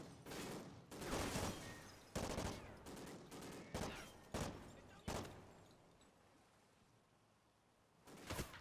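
Gunfire in Call of Duty: Ghosts on a flooded level: loud bursts of automatic fire and sharp shots in quick clusters, then a quiet lull before a final volley, with no talk over it.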